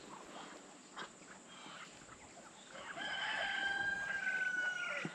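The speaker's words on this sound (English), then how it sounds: "You see the silly chickens over there and the guineas" Chickens and guinea fowl on a farm in October call around the yard, with scattered clucks and squawks at first, then a loud, drawn-out crowing call rising over the flock in the second half, with faint footsteps nearby.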